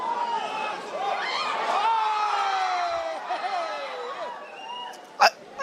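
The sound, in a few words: stadium audience cheering at a football match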